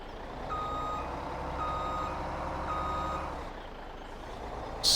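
A Mack truck's reversing alarm in Farming Simulator 17 beeps steadily, three evenly spaced tones over a constant low engine rumble, which then drops away before a sharp burst at the end.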